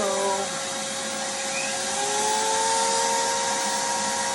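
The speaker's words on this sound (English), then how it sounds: "So I'm going to turn the vacuum on and get to carving." A vacuum cleaner runs nonstop at close range while foam is being carved, giving a loud, even whine with a slight pitch drift across the few seconds.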